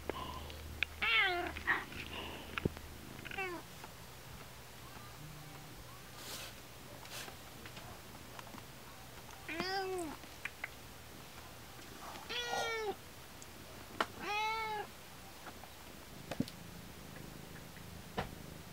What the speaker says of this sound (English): They also have this adorable cat.